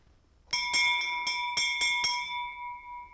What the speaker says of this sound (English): And this is the handbell that was given to them.